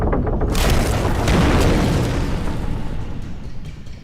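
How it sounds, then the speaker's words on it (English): A flashbang goes off in the video game Alan Wake Remastered: a loud, sustained booming blast that swells in quickly and rolls on for several seconds, slowly fading with a rumbling tail. "I dropped the flashbang."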